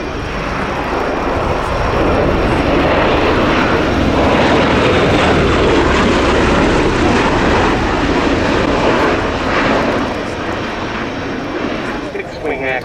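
A USAF CV-22B Osprey tilt-rotor aircraft flies at the Royal International Air Tattoo 2019, producing a loud, sustained engine and rotor roar that swells and fades, with a commentator talking over it.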